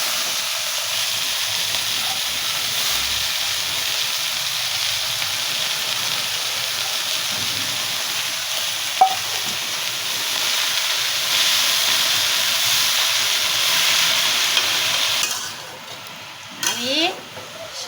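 Greens frying in a pan with onions already browned, giving a steady broadband sizzle and hiss that fills the stretch before fading near the end, with a few faint stirring clinks.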